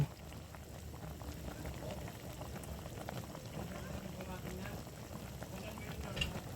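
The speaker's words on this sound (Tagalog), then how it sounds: "Kumukulo-kulo na siya mga idol." A pot of fish stew in coconut milk bubbles and simmers steadily, a continuous low gurgling boil without pause.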